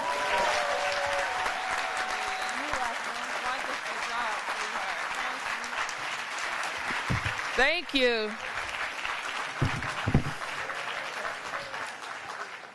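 A large audience claps steadily at a summer youth employment program kickoff event, the applause filling the room for several seconds before fading as a voice begins speaking.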